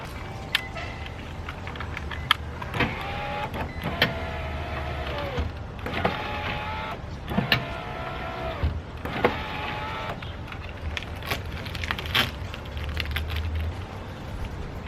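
A Nissan 350Z power window motor whirs in repeated runs during a window motor repair, each a few seconds long with a strained, rising hum, separated by clicks and short pauses.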